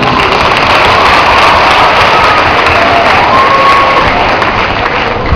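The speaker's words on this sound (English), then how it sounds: "Let's give ourselves a big round of applause for a job well done." A large graduation audience fills a school ceremony with dense, continuous applause and crowd noise, loud and sustained throughout with cheering mixed in.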